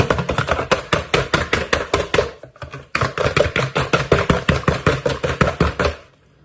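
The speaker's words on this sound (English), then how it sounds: "Just keep mixing it." Brownie batter being mixed steadily in a bowl, a loud, fast, regular run of rhythmic strokes that pauses briefly, resumes at the same pace, then stops.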